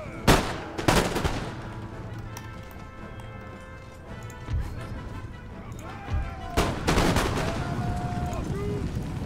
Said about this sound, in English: See if my guys can get one more volley off.